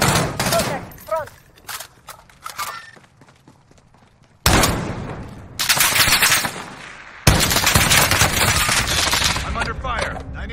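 Loud automatic gunfire from Call of Duty Modern Warfare (2019) comes in sharp scattered shots at first, then erupts into two dense, sustained bursts of machine-gun fire close by.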